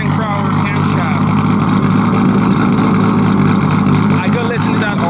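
A BMW E36 fitted with a 2JZ engine and a 272 camshaft drones loudly and steadily through the whole stretch, a deep, continuous exhaust note with slight rise and fall, close by.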